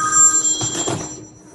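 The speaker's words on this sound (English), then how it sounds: "sounds like someone on the line has a call" A telephone bell ringing at an office event, a bright, loud, trilling ring that fades over about a second and a half, heard on its own with no talking.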